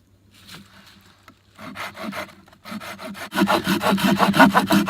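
Rhythmic back-and-forth strokes of a hand saw biting through logs, starting slow and hesitant, then speeding up into quick, loud, regular rasps.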